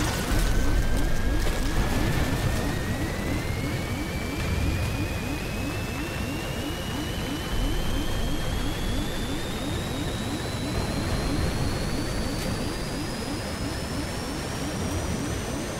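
Aircraft engine roar during the opening plane crash in the survival game Stranded Deep, a loud continuous drone with a slowly rising whine and rapid pulsing throb, no voices.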